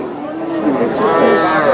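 A cow with her calf at a cattle market gives a single drawn-out moo, loud and close, lasting the whole moment.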